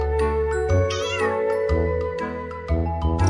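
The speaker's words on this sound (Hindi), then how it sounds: "जरा इसकी आवाज सुनो, ये कितने प्यार से म्याऊं कर रही है।" A pet cat meows several times, close and affectionately, with light tinkling tones in the background.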